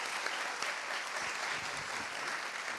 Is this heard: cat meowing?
no